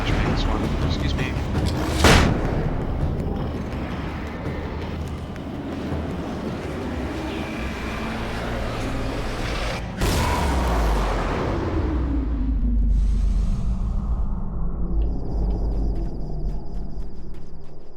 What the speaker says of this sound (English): I'm just gonna flashbang this one.